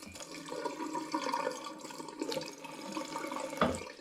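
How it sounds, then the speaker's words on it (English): Water runs from a tap in a steady hiss and splash, fairly quiet and close, with a brief louder splash near the end. "And here we have running water."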